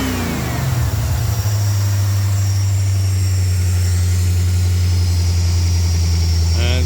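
A 1984 Corvette Z51 V8 with FiTech fuel injection settles from a rev back to a steady idle, its deep, loud low rumble holding close and constant for several seconds.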